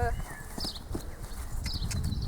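A nervous horse being desensitised moves and steps around, with soft irregular hoof thuds under ambient noise; a person speaks briefly at the start.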